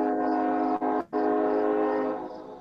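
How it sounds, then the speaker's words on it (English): A train horn blares loud and sustained nearby, with two brief breaks in the blast, then fades slightly as the train passes. "Sorry, train."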